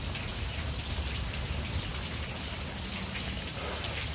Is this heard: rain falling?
yes